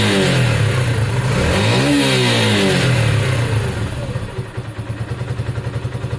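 A motorcycle fitted with a performance carburettor revs at full throttle, the engine rising in pitch to a peak, dropping, then falling back to a choppy, pulsing idle with a clear rhythmic thump near the end.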